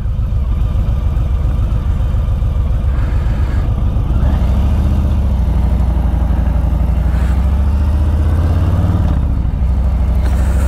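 A 2021 Harley-Davidson Street Bob 114 motorcycle engine while riding, a loud continuous low rumble that shifts pitch as the bike changes speed, mixed with wind noise and no talking.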